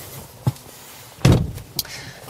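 A frameless car door on a BMW 2 Series Gran Coupe shuts with a solid, close thump, preceded by a light click and followed by a short latch rattle.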